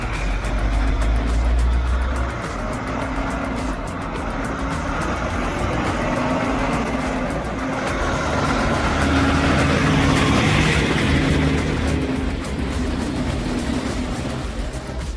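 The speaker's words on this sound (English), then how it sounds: "the truck had to overcome the slope and enter the challenging curve" An oversize truck hauling a giant ET-94 fuel tank labours up a slope toward a tight curve, its engine giving a loud, steady, continuous rumble that stays close and holds throughout.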